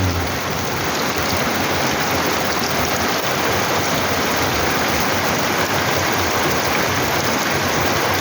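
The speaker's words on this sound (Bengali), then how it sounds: "কঠিন বৃষ্টি হচ্ছে আজকে, সে কি বৃষ্টি!" Heavy rain pours down in a steady, loud, unbroken roar of dense drops, with no voices over it.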